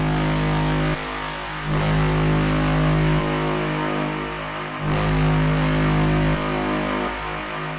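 A Serum 2 synth horn braam with distortion, loud sustained brassy blasts repeating in long swells, each dense, gritty and rich in low harmonics, with brief dips between notes.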